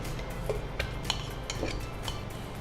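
Two ice apples (palm fruit) dropped into a steel mixer jar, a few light clinks and taps over steady kitchen background hum.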